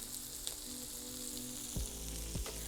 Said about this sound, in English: I'm going to cook it down into the pan until it gets translucent